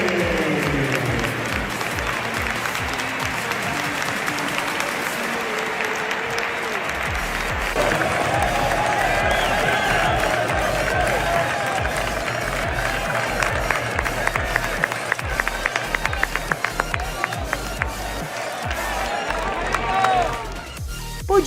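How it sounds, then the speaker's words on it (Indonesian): Whole stadium crowd giving a standing ovation to Real Madrid captain Valverde as he walks off the pitch, dense sustained applause and cheering throughout, loud and steady with rising swells of clapping near the end. "Seluruh stadion tanpa terkecuali berdiri memberikan aplaus meriah."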